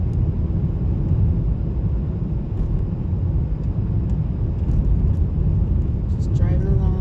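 Car driving along a rural road past farmland at night, heard from inside as a steady, loud low road rumble and engine drone throughout, with a voice talking over it.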